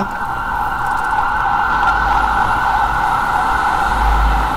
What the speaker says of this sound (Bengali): একটা অ্যাম্বুলেন্স যাচ্ছে